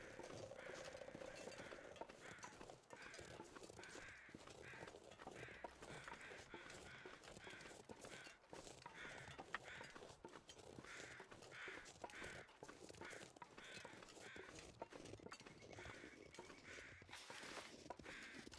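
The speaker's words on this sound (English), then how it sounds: "there's pretty persistent sounding crows" Crows caw persistently in the lakeside wilderness of the survival game Voyageur, with repeated harsh calls scattered over a long stretch of quiet game ambience and footsteps, while someone talks intermittently.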